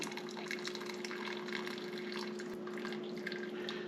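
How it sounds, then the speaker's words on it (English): Turkey soup stock draining out of a strainer of scooped bones and meat, a steady close watery trickle and splash running continuously under a faint hum. "We're going to scoop out all our pieces. Let all the liquid drain out of it."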